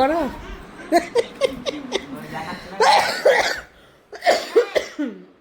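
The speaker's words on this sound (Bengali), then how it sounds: "কাশি হয়ে গেছে আমার।" Several short, sharp coughs burst out in a loose sequence, close and fairly loud, mixed with brief vocal sounds that resemble chuckles.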